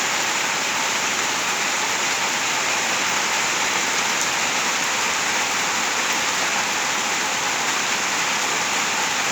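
Heavy rain pouring down in Bangkok during the early rainy season, a dense, loud, unbroken hiss of downpour on surfaces lasting the whole time, with no voices.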